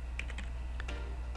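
Typing a date on a computer keyboard while filling in a résumé in Word, with a handful of quick key clicks in an irregular rhythm over a steady low hum, close and moderately quiet.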